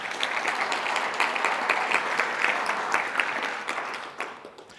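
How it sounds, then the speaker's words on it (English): Audience at a Python community conference opening ceremony breaks into steady applause, dense clapping from a crowd that holds for several seconds before tapering off near the end. "So please give them a round of applause."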